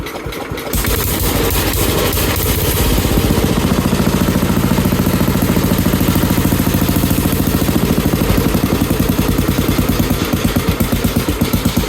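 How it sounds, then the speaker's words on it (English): A Sears 10XL garden tractor engine runs alone, close and loud, a rapid even single-cylinder putter that starts abruptly and holds a steady rhythmic idle with a slight choppy pulse toward the end. "This one will idle when I lower it down."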